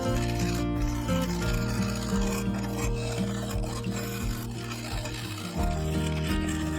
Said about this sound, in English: with the lathe running forwards, I offered up the cutting edge, and to my complete surprise, it cut away the excess like a hot knife through butter